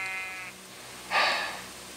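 Sheep bleating in a video game animal race, a single moderately loud bleat rising after a brief earlier tonal sound, with no talk over it.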